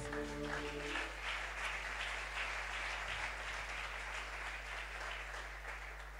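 A church congregation at a Sunday service applauds loudly and steadily, filling the room with a dense wash of clapping over a low, constant hum, while a sustained musical tone fades out in the opening second.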